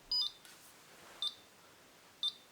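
An Arduino-built burglar alarm keypad gives three short, sharp electronic beeps at roughly one-second intervals, clear and alone against a quiet background.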